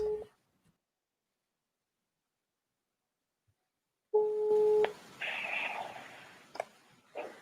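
A phone call rings over speakerphone, a steady electronic tone pulsing briefly, then silence for a few seconds before the tone returns, followed by faint muffled noise and clicks.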